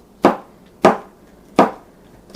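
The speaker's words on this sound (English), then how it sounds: "It just diced right on through there." An all-purpose kitchen knife dicing food on a cutting board: four sharp, separate chops evenly spaced about a second apart, close and loud with brief decays and no talk.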